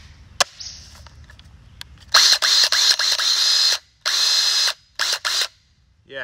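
A Craftsman V20 cordless impact driver revving in loud close bursts, several trigger pulls of varying length with abrupt starts and stops, after a few faint clicks.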